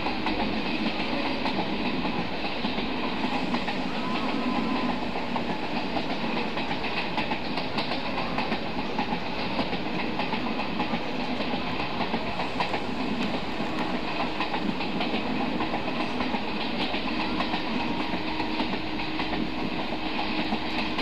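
An Indian superfast express running in Indian Train Simulator (MSTS), its wheels clacking rhythmically over rail joints beneath a continuous rolling rumble, steady and fairly loud with no talking.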